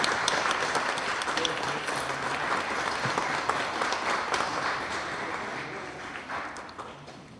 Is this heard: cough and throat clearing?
no